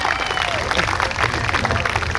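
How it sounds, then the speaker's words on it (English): A crowd at a New York State Police special operations exhibition claps and cheers in a dense, steady burst of applause, fairly loud and continuous, with voices mixed in. "All right, round of applause for them guys."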